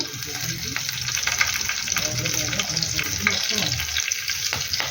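Cumin, green chillies and curry leaves sizzle and crackle loudly in hot oil, stirred in a pan. The frying stays continuous and close throughout, with faint voice-like murmurs in the background.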